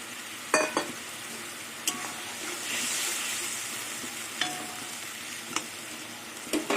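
Fried catla fish going into a bubbling brinjal curry: a continuous close sizzle and simmer, broken by several sharp metallic clinks and scrapes of a spoon against the pan.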